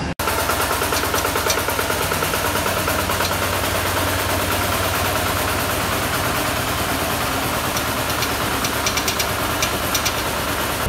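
A SAAM CHD4 corn harvester and husker runs its engine at a steady, close idle, with a continuous mid-pitched drone, a faint knocking rhythm and vibration that hold level throughout, no talking.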